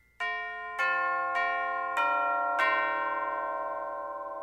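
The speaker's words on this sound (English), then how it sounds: "and chimes." Orchestral chimes, tubular bells, struck five times in a slow sequence, each deep metallic tone ringing on and sustaining under the next, loud and close with no voices.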